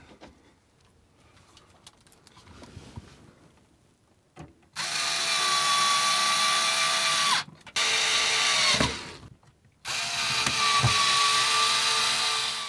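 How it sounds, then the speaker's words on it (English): A power drill drives a screw into motorhome trim in three long bursts, its whine steady and close, with short pauses and a clunk between runs. "And pop a screw in."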